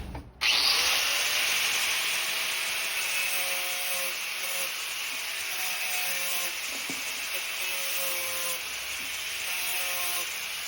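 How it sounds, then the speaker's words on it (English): An angle grinder whines loudly and continuously against metal edges being prepped, a sustained high-pitched grinding that starts abruptly and holds steady with slight wavering. "Now I'm just going to prep all the edges with the good old angle grinder."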